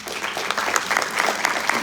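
A church congregation applauds steadily for a man they are honoring, a dense, even wash of clapping held at a constant level for the whole short stretch, with no voices over it.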